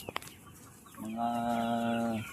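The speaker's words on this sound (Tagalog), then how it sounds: "Actually, ang breed nito is yung black Australorp." Free-range black Australorp chickens give a drawn-out, fairly close cluck or call after a couple of short sharp sounds, over a faint outdoor background.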